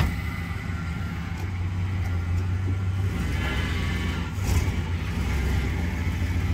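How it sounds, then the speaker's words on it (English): A 1970 Plymouth Fury barn find, running for the first time since 1997, idles with a steady V8-style rumble and slight throttle swells, loud and close. "for a car that's just started running for the first time since 97, it sounds amazing"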